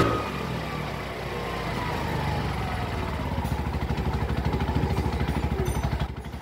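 A Bajaj RE tricycle's engine idles steadily after its throttle body was cleaned, a close, rhythmic chugging that grows slightly louder and more pronounced pulsing toward the end without stalling.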